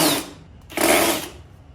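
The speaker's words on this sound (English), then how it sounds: "A little bit of drill." Power drill driving a security bit on a 20-year-old bike, two short whirring bursts separated by a brief pause, close and moderately loud.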